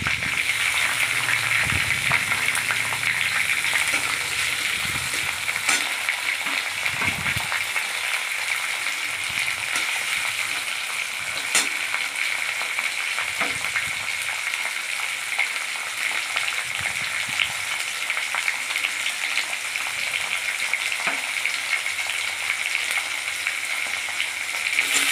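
Chopped garlic fries in hot oil with whole garam masala spices and bay leaves, a loud, continuous sizzle with occasional stirring scrapes throughout.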